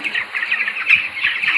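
A 13-day-old chick in a poultry shed chirps in quick, thin, high peeps repeated close by in a continuous stream, with no one speaking.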